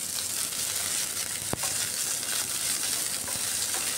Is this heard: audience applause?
no